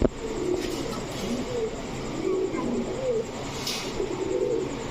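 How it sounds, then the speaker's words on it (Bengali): Pigeons, including a silver female, coo softly and repeatedly over a steady background hum, their low rolling calls recurring throughout. "সিলভার মুসালদম একটা মাদি কবুতর"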